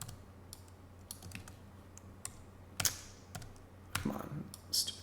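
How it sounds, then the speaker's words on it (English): Computer keyboard keys tapped in scattered single clicks and short bursts, close and fairly quiet over a low steady hum. "hit T on the keyboard"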